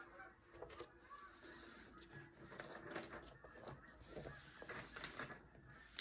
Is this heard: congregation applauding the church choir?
no